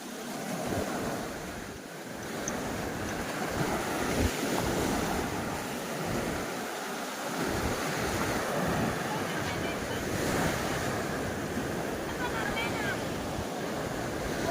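Sea surf rolls steadily onto a beach at Hua Hin, Thailand, a continuous loud wash of breaking waves with wind buffeting the microphone throughout.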